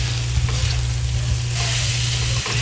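Fried chicken pieces stirred in a pan for chicken adobo, giving a steady loud sizzle with soft scraping strokes over a low constant hum, no voices.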